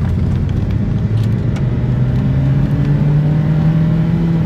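Rebuilt Hyundai car engine on its first test drive, a loud, steady droning hum that rises gradually in pitch as the car accelerates, with no talking.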